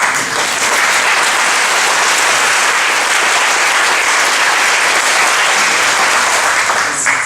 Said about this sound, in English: And you should applaud him for that.